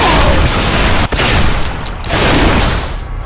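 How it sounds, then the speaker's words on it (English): Shotgun fire in the shooter video game Bodycount: loud, booming blasts with dense, rolling bursts. A brief dropout comes partway through, then the heavy rumble resumes. "My favourite weapon in there would probably be the shotgun."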